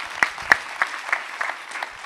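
Applause at a biomimicry expo talk on future cities and territories for the Seaboost team, fairly faint and thin, with a few sharper claps standing out over a steady patter for about two seconds.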